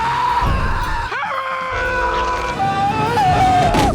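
A man screams in a Spider-Man film scene, loud strained cries rising and wavering over a dense, noisy soundtrack.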